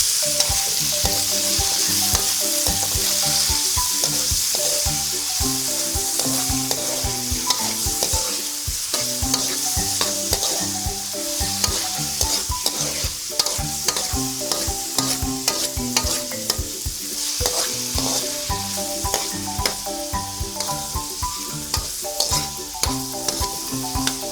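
Loud, continuous sizzle of onion, garlic and tomato frying in a pan for ginisang saluyot, with frequent scraping and clanking of a spoon stirring close by, no talking.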